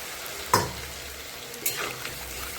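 Water is poured into a pan of frying pumpkin greens and fish head, giving a sudden sizzling splash, then a second softer hiss over a steady background fry. No one speaks.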